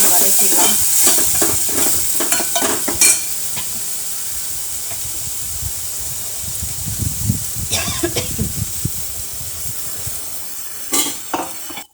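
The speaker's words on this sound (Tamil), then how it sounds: "அப்புறம் இந்த அரைச்சி வச்சிருக்கிற சரியான மிளகு சீரகம் எடுத்து நம்ம அப்படியே எண்ணெயில்" Ground pepper and cumin paste sautéing in hot oil for rasam, with a loud steady sizzle and hiss, stirring scrapes through the first few seconds and brief utensil clinks later.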